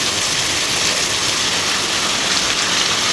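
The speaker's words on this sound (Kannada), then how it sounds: "ಹೊರಗೆ ನೋಡಿ ಬಹಳ ಜೋರಾಗಿ ಮಳೆ ಸುರಿತಾ ಉಂಟು" Heavy monsoon rain in coastal Karnataka pours down in a dense, steady hiss, loud and continuous with no pauses.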